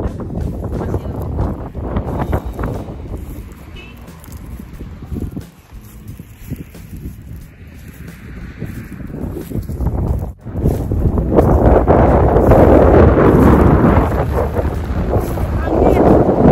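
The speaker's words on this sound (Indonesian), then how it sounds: "Angin yang bikin bermasalah." Strong wind blows across blooming tulip fields in Callantsoog, Holland, buffeting the microphone in loud, uneven gusts that swell toward the end, with people talking at times.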